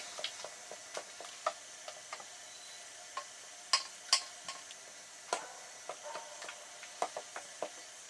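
Whole wheat Guinness bread ingredients with honey are stirred together in a bowl, making irregular light clicks and soft scrapes of the utensil, close and fairly quiet, with no talk.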